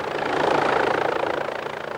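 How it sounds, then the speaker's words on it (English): Air ambulance helicopter flying over Cornwall, its rotor thudding in a steady rapid pulse that swells and then eases slightly over a couple of seconds, fairly loud and on its own. "The new helicopter will be based at a big hospital in Truro, in the middle of Cornwall."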